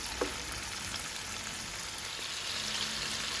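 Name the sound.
pancetta cubes frying in a pan, releasing fat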